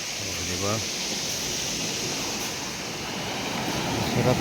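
Ocean waves wash steadily onto a beach, a continuous loud surf hiss with gentle swells. Someone says a brief word near the start.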